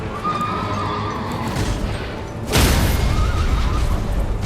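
A horse neighs in the video game Elden Ring, a whinny heard over hoofbeats and combat rumble, followed by a sudden heavy crash that leaves a louder, denser din of impacts and movement.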